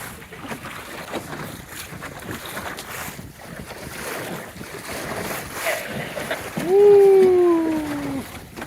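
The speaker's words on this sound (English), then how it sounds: "Sloppy seas with not much wind." Wind and water slosh around a small sailboat moving through sloppy seas in light wind, with steady rushing noise, waves slapping the hull, and a brief tonal whistle near the end.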